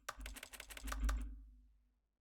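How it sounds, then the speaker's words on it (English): Quick, close typing on a computer keyboard: about ten crisp keystrokes in a fast, uneven patter that stops abruptly and leaves a brief soft tail. "That's my keyboard."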